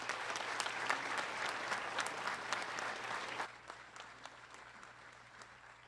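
Applause from an audience at a spring sports awards ceremony for the outstanding female jumper, dense crowd clapping that runs strong for several seconds before thinning to scattered claps.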